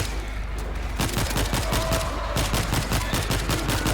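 Rapid gunfire in the zombie shooter World War Z, a dense burst of shots hammering out in quick succession, loud and close, starting after a second of quieter rumble and continuing steadily.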